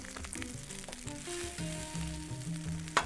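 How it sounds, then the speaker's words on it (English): Shrimp fried rice sizzles in a pan with butter added, a steady moderate frying hiss with small crackles and a sharp clink near the end. "And now we're going to let this actually fry a little bit. And I'm going to put some butter in here."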